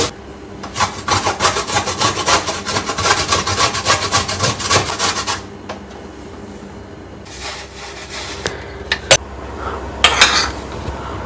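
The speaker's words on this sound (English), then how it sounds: "we are going to crush it or grate it" Jaggery being grated or crushed for sesame laddu, a steady close rasping scrape with dense rhythmic strokes for about five seconds, then a pause and a few scattered scraping bursts and knocks, with no talking.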